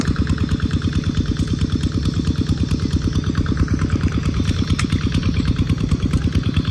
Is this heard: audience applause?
no